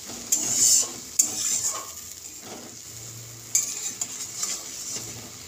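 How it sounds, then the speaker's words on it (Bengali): Spice paste with two bay leaves being fried down in a pan for Bengali chana dal, with faint sizzling under spoon scrapes and clinks against the pan in a few bursts. "এবার আমি দুটো তেজপাতা দিয়ে দেব। মশলাটাকে আমি ভালো করে কষিয়ে নেব।"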